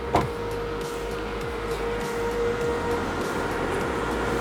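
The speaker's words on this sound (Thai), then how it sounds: "นี่ก็คือเสียงจากพัดลมนะครับ ที่ทำความเย็นให้กับแบตเตอรี่ของรถ" Battery cooling fan of a Tesla Model 3 Performance heard from outside the car, a steady whirring drone with a sustained tonal hum and a brief knock at the start.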